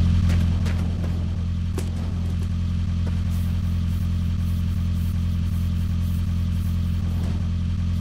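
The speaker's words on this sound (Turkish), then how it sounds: "Arabanın sesi çok iyi." A steady, loud car engine in a video game hums and idles at close range with a constant low drone and occasional clatter, no voices.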